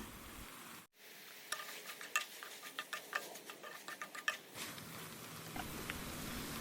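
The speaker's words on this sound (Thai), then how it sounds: "เราจะผัดไม่นานนะคะ เพราะว่าปลาหมึกค่อนข้างสุกง่าย" Squid being stir-fried in a wok for a Thai basil stir-fry, with a soft sizzle and a rapid series of close metallic spatula taps and scrapes, with no talking.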